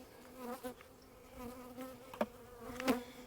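Honeybees drone around an opened hive with a tonal, wavering hum, several individual bees passing close to the ear, fairly faint and with no talking.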